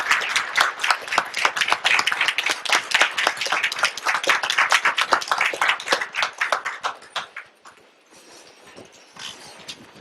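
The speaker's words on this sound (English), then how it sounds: "So let's give our educators a round of applause." Dense, loud applause from an audience at a city commission meeting honoring educators, steady for about seven seconds before thinning into a few scattered claps near the end.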